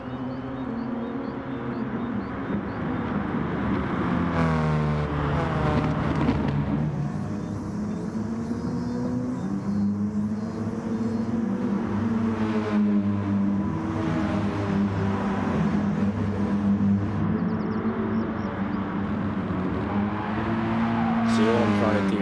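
Gr.4 race car in a GT Sport daily race held at full throttle, a steady loud engine drone with shifting pitch running continuously throughout, overlaid by someone talking the whole way.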